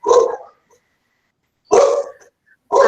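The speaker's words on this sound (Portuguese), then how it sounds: "O cachorrinho de quem que tá latindo?" A dog barks in three sharp, loud bursts with short pauses between them, close by and heard alone without talk.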